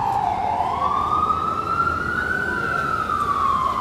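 A single siren wails in a slow rising and falling sweep, steady and moderately distant over low traffic rumble.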